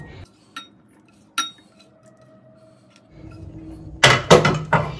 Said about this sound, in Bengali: আমি চিকেনটা একটা পাত্রের মধ্যে ঢেলে নিচ্ছি।